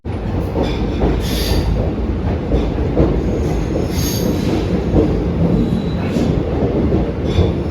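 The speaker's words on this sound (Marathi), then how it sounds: "आपली ट्रेन आता पोचते दादरला दादर वेस्टर्न" Khandesh Express pulling into Dadar Western station before dawn: a loud, steady rumble of rolling wheels with bursts of high metallic squeal as it brakes.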